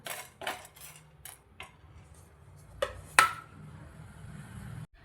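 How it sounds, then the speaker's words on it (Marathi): Whole biryani spices rattle and skitter across a dry pan over low gas, with sharp metallic clinks and scrapes from stirring and a faint steady hum behind. "आता गॅसवर मी ठेवले आहे पॅन आणि हे सर्व खडे मसाले यावर भाजून घेऊया"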